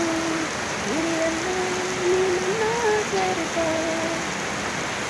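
Steady Diwali-season rain pours down outdoors as a continuous close wash of falling water, with a voice speaking and faint melodic tones drifting over it throughout.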